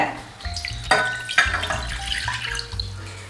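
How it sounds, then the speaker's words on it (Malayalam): A glass of water is poured into a pan to make tea-shop-style milk tea, giving a close, splashing gush with a few clinks and drips, moderately loud, with no talking. "നമ്മൾ ഒരു ഗ്ലാസ് വെള്ളം ഒഴിക്കുകയാണ്"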